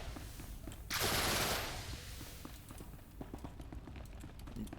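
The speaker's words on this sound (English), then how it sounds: "I'm gonna top this guy off with my rapid shots." A Bounty Hunter Mercenary's rapid shots fire in SWTOR during a Hammer Station PvE run: a loud, dense burst of blasts lasting about half a second, then fading into the game's ambient background.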